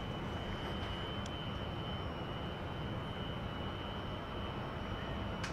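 An Su-27 jet in the DCS flight game makes a low-speed, high-angle-of-attack pass, heard as a steady, unbroken engine roar with a thin whine above it and no speech.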